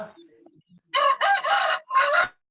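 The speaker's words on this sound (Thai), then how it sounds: "ไก่มันขัน" A domestic rooster crows close and loud in a four-part, stuttering cock-a-doodle-doo, following a few faint, soft sounds.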